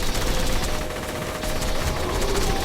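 Rapid, sustained automatic gunfire from a gun in Borderlands The Handsome Collection, a dense, loud, continuous burst of shots filling the whole stretch without pause.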